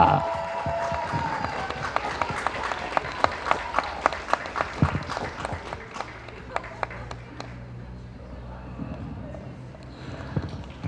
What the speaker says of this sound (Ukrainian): Оплески, оплески!